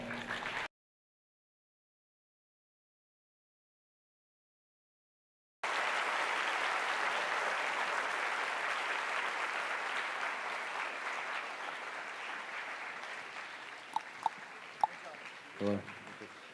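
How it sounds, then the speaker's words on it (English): An event audience applauds as a speaker is introduced, a few seconds of silence giving way to broad, sustained clapping from a crowd that gradually thins, with a few sharp knocks near the end. "Please put your hands together for Mr."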